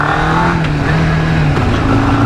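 A 1988 Kawasaki GPX 600R 592cc motorcycle engine hums steadily at moderate revs in a quiet residential estate, a close, continuous buzzing drone with slight pitch shifts and no talk.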